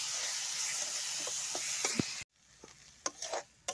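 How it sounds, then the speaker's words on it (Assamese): Eggplant, tomato and potato go into a pan of fried onions and are stirred. A steady sizzle with scraping stir strokes is cut off abruptly partway through, then quieter sizzling and a few stirring clatters resume. "এতিয়া আমি সানি ৰখা এই বেঙেনা, বিলাহী আৰু আলুখিনি ইয়াতে দি দিম।"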